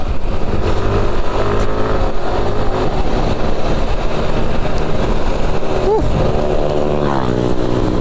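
A group of six Yamaha motorcycles riding together in Dingalan, Aurora, their engines droning loud and steady throughout, mixed with wind rush and road noise, with a brief rising tone near the end.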